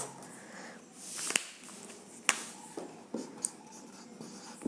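Chalk writing a unit on a board, soft scratchy strokes with a few sharp taps, faint and close, with no talk over it.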